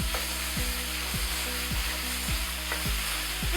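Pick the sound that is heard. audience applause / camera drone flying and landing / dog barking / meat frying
meat frying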